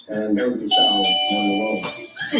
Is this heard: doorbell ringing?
yes